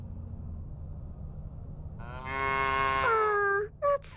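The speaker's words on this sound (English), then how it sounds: "There's a bunch of cows on the field." Cows in a field in the video game Little Misfortune moo after a stretch of low ambient hum, one long drawn-out moo followed by a brief second call, close and clear.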